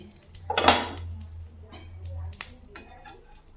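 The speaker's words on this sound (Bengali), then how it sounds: "বন্ধুরা এবার ঢাকনাটা এই যে খুলছি" Lid lifted off a cooking pot on a low gas flame, a single metallic clatter and scrape followed by faint rattles and light kitchen clinks, close and fairly quiet.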